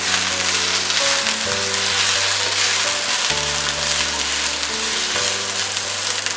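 Nepali-style eggplant pickle frying in a pan gives off a loud, continuous hiss of hot oil up close, while steady low musical tones play underneath and no one speaks.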